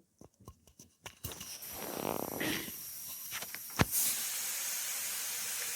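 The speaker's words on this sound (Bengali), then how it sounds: "প্রায় পাঁচ মিনিট পরে আমি প্রেশারে ভেপারটাকে বের করে দিচ্ছি" A pressure cooker holding eggplant vents steam as a steady, loud hiss after a few soft knocks, with a sharp burst near the end.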